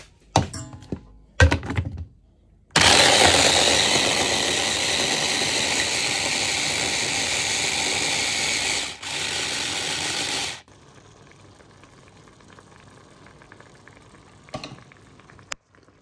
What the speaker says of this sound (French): Là, je viens mixer citron confit. Donc je vais bien les mixer.